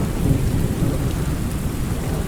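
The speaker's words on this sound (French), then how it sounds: "C'est la grosse tempête hein." A heavy thunderstorm in the video game Under A New Sun: steady loud rain with deep rumbling thunder filling the whole stretch, no voices.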